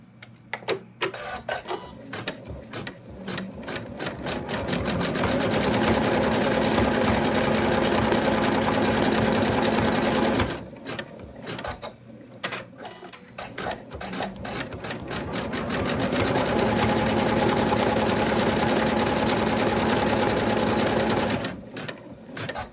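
An embroidery machine stitches fabric held in a hoop for an in-the-hoop Santa doll, a steady rapid needle chatter running in two long bursts with brief pauses and clicks between them.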